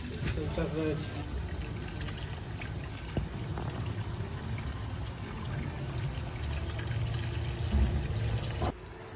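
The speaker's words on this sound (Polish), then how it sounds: "Tu jest paliwo wypompowane już z zbiorników. Cały czas leci." Contaminated diesel fuel, pumped out of storage tanks, pours and splashes continuously at close range, a steady gushing stream that runs for several seconds before stopping abruptly.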